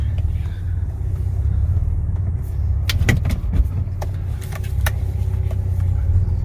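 A Saab 9-3 engine rumbles steadily at close range as the car slowly pulls out of a parking spot, with a few brief clicks and knocks midway.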